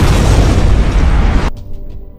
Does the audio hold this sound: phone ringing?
no